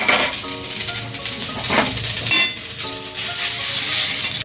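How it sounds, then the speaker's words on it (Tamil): Lump asafoetida and curry leaves are dry roasted in a pan, with continuous close scraping, stirring and light rattling of pieces against the metal. "கட்டி பெருங்காயம் நல்லா வறுத்து எடுத்துக்கலாம்"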